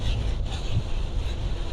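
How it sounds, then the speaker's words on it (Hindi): Very strong storm wind in Hillsboro, Texas, roaring steadily as dense, unbroken noise buffeting the microphone without a letup. "तेज़ हवा है, बहुत ही तेज़।"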